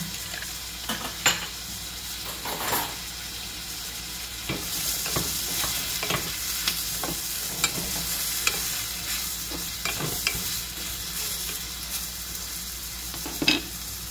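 Food with olives is stirred in a hot frying pan, a continuous loud sizzle close by with repeated scraping and tapping of a utensil against the pan.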